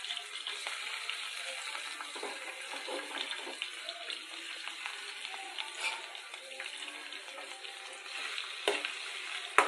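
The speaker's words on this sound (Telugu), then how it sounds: "ఇప్పుడు మనం కట్ చేసి పక్కన పెట్టుకున్న ఈ వెల్లుల్లిపాయ పీసెస్ కర్రీ వేసి పోపు మసాలా సీడ్స్తో పాటుగా ఫ్రై చేసుకున్నామండి" Garlic pieces frying with tempering seeds in a pan, a steady low crackle and sizzle with occasional stirring scrapes and small pops, fairly quiet and uninterrupted by talk.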